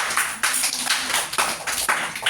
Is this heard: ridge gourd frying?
no